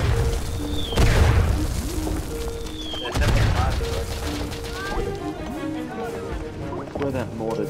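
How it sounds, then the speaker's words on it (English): Mortar shell blasts and rifle fire in the First World War shooter Verdun: two heavy booming impacts with scattered shots and crackling debris, close and loud, with a player talking over the action. "that mortar just landed directly on my head"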